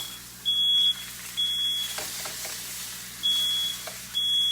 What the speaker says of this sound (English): The smoke detector always goes off when I cook